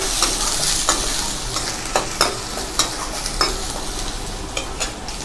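Small onions, garlic and curry leaves sauté in a pan with a bright, steady sizzle up close, while a spatula taps and scrapes in a fairly regular rhythm; no voices present.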